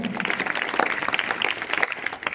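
Schoolchildren clap for a classmate's correct answer during an English quiz at a school assembly; brief, busy clapping from a group, close and lively, with a few high voices mixed in.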